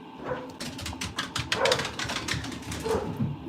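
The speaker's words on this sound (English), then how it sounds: "My dog is going absolutely crazy up there." A dog barks excitedly upstairs in a house, giving rapid, repeated yips and barks with a few whines at moderate distance.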